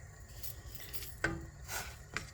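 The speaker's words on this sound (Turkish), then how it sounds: "Şöyle karıştırarak pişiriyorum." Vermicelli cooking in boiling water in an open pot, stirred with a utensil that scrapes and clinks against the metal a few times over a low bubbling background, quiet and near.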